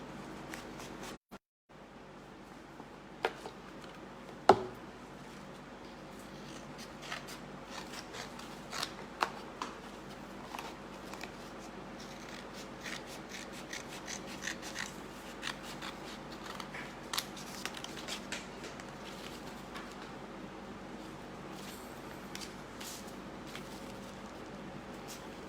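Scissors snip paper while a handmade Mother's Day card is being made, a long run of quick, light cutting strokes and soft paper rustles, close and fairly quiet, with no talking.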